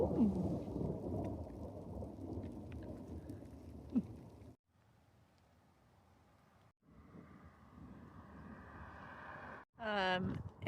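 Rain patters steadily through a thunderstorm with low rolling thunder on a mountain trail, the downpour easing into a quieter hiss before heavier bursts return briefly at the end.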